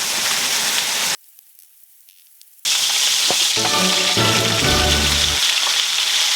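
Kimchi frying in meat fat at a winter camp, with a loud, steady close sizzle that drops out briefly, then returns with a few clinks from utensils.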